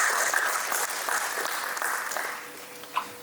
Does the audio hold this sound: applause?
yes